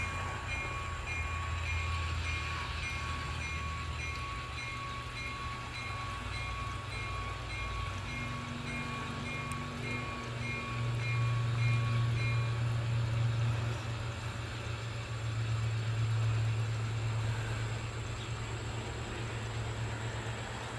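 A short five-car freight train rumbles steadily nearby through a crossover onto the main line, low engine drone swelling and easing over a continuous background hum, no voices.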